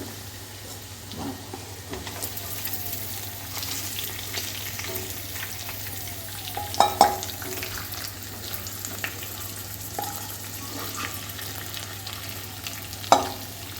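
Chicken frying in a pan: a quiet, steady sizzle with a few sharp clinks of a utensil against the pan.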